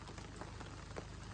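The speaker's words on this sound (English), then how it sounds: "Just out here catching some rain." Steady rain falls nearby outside an off-grid cabin, a dense, even hiss of drops hitting a surface with a few slightly louder spatters, no voices.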